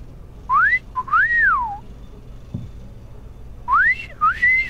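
A whistle blown in a video game gives several clear swooping tones, rising and falling in two short bursts separated by a pause, alone with no talking.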